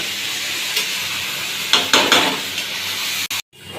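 Rice and lentils fry in a pan with a loud, steady close hiss and sizzle, a few stirring scrapes partway through, then a sudden cut near the end before the sizzle returns.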